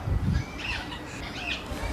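Harsh squawks of a red-tailed black cockatoo repeat over a noisy outdoor zoo background, loud and close, with no talking.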